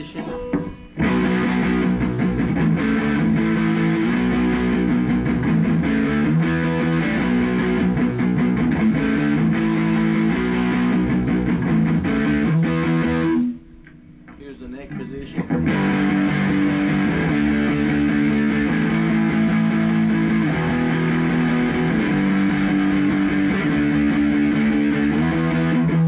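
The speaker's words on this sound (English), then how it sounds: "Here is the middle position." Electric guitar in the middle pickup position played through a Marshall amp, loud steady chords and riffs for most of the clip with a brief pause partway through before the playing resumes.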